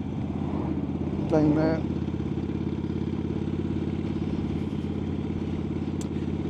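A Harley-Davidson motorcycle with a large aftermarket air filter rumbles steadily while being ridden, a close, continuous low engine drone under wind, with a short spoken remark early on.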